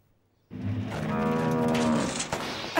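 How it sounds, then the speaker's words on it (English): A cow moos once in a single drawn-out, close and clear call, heard in an animated children's farm show. "Are you mooing at me?"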